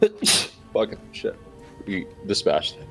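A single sharp sneeze bursts out near the start, close and loud, followed by several people talking.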